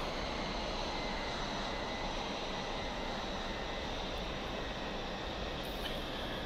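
A Dassault Mirage F1 jet roaring at full afterburner during takeoff in the DCS flight simulator, a steady, loud, broadband engine roar throughout with no talking.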